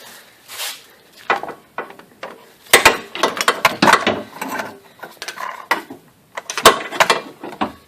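Ratchet loosening a bolt on a Chrysler Town & Country EGR valve during a P0404 repair, heard as bursts of clicky pawl ratcheting and metallic clatter in several irregular runs, close and fairly loud with no talk.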